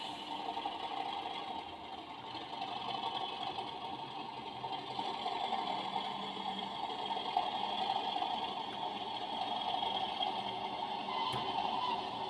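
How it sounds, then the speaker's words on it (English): Accurascale Class 37 model locomotive sound unit running its diesel engine and brake effects, a steady low mechanical rumble with a buzzy hum, moderately quiet and unbroken throughout. "Very nice brake sound"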